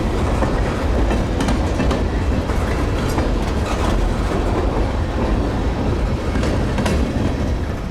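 Local freight train led by CSX and NS locomotives passing close by, loud continuous rumble and clickety-clack of wheels on rail joints, steady throughout with no talking.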